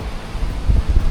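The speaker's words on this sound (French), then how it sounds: "aujourd'hui beaucoup de vent" Strong wind buffets the microphone outdoors at Valmy during a bike ride, making a loud, low rumbling roar that swells in gusts toward the end.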